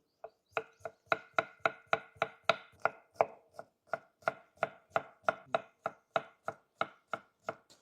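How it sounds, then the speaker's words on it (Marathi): Brisk, evenly spaced knife chops on a cutting board while tomatoes are cut, about two strikes per second, close and clean with no voices. "आपण आता टमाटर कट करून घेऊ।"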